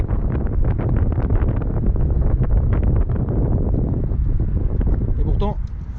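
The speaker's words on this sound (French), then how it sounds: "Il y a beaucoup de vent aujourd'hui" Strong wind buffets the microphone in a constant low roar outdoors beside a Lamborghini Aventador S, with brief voices near the end.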